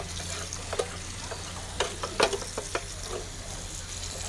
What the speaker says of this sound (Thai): แม่อาจจะรำคาญเสียงหนูล้างถาดสีนิดนึงนะคะ